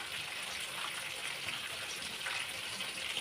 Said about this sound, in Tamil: இப்போ இந்த தண்ணி அந்த பாத்திரத்தில் ஊற்றிருக்காங்க